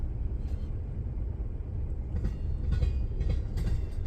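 Two CSX freight trains pass each other east of North Baltimore, Ohio, in winter, with a heavy, continuous rail rumble and recurring wheel clatter and clicks. They are close and loud, and no one speaks.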